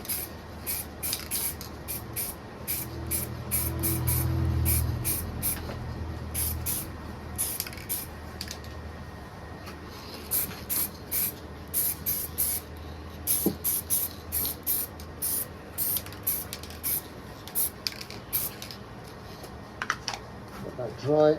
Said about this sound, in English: now we're just going to give the brackets a coat of satin black from a rattle pan